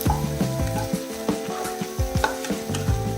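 Cut ridge gourd sautés in a pan with a steady sizzle as a spatula scrapes and stirs in quick, repeated strokes, close and loud.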